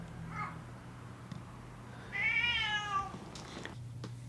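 A cat gives a faint short mew, then one longer, louder, wavering meow, heard over a low steady hum in a quiet room.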